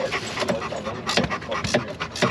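A dog pants inside a Jeep TJ, quick rhythmic breaths close to the microphone over a steady rumble of road and cabin noise.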